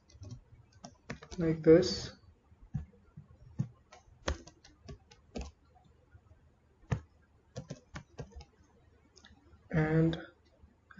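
Code being typed on a computer keyboard, quiet scattered key clicks in short bursts with pauses, while a voice speaks briefly a couple of times.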